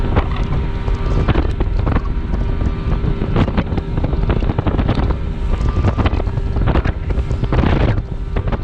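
Strong, steady wind buffets a microphone on a boat caught in a Florida storm, a loud continuous roar with gusty swells and broadband rumble throughout, and no talking.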